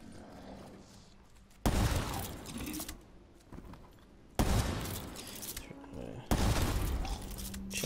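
An MG42 machine gun in Call of Duty Zombies on Kino der Toten fires in three loud, rapid bursts of about a second each, separated by quieter game ambience with a voice talking between and under the fire.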